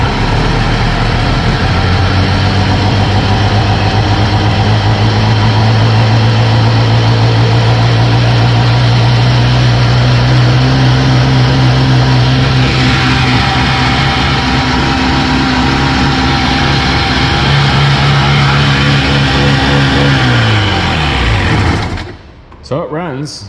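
A Sea-Doo XP jet ski engine idles far too high, a loud, steady droning roar that shifts in pitch slightly before cutting out near the end.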